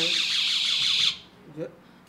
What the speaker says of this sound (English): It's a personal alarm.